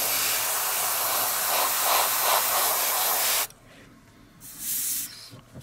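An airbrush sprays paint thinned with leveling thinner onto a scale model of a Sturmgeschütz III Ausf B tank, a loud steady hiss for over three seconds, then a quieter pause and a second short burst of spray.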